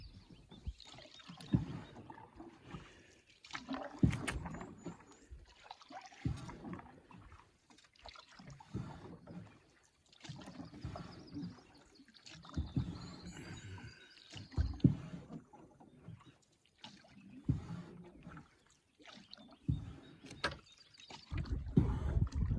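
A canoe or kayak paddled on a lake, with rhythmic paddle strokes and water gurgling and trickling near the boat, steady and moderately quiet, with no talking.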